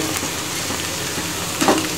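Ground spice masala frying in oil in a pan while making spicy khasi chicken curry, a steady close sizzle with a brief louder crackle near the end, no voices.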